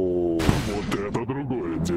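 A rapture bomb explosive launches in the strategy game Iron Harvest, a sudden burst about half a second in, with a voice talking over it the whole time.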